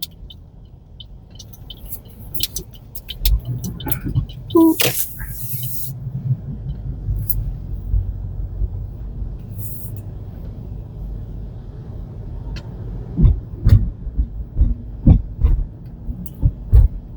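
A car on a street in Honolulu, Oahu, driving and making a right turn, with a steady low engine rumble and road noise, a brief hiss midway and thumping bumps near the end.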